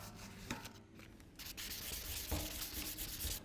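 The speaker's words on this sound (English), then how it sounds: "that's sanding it" Sandpaper rubs across a BMW E46 car wing in repeated scraping strokes, a close, gritty rasp that rises and falls with each pass.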